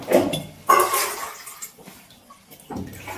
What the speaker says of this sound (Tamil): இப்போ ஃபில்டர் தண்ணி ஊத்த போறேன்.